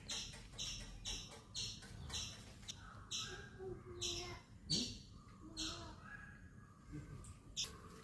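A squirrel gives repeated sharp, high chirping calls in a quick regular rhythm, fairly loud and close, with a few harsher squawks mixed in.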